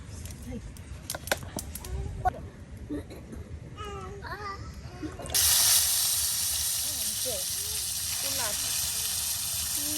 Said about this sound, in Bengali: একসাথে আপনার এখন মাছটা ভাজি করে নেওয়া হবে।